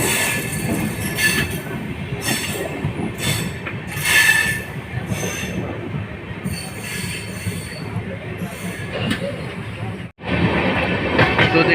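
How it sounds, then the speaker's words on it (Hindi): The Janhit Express pulls out of Patliputra station with a close, continuous rumble, rhythmic wheel clatter and recurring high wheel squeals, cutting out briefly near the end before resuming. "देख रहे हैं कि हमारी ट्रेन पाटलिपुत्र से खुल रही है।"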